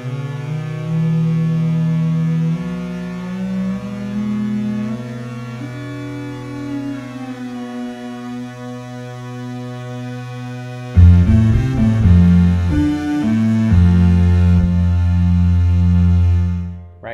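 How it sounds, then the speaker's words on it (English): An ARP 2600 synthesizer built in Max plays sustained buzzy tones from oscillators tuned to a chord, shifting harmonies held for long stretches, then a louder, denser chord that enters abruptly partway through and holds before cutting off. "you can make it so the oscillators tune to a chord. And then when you play notes, it's going to create you know, a harmony."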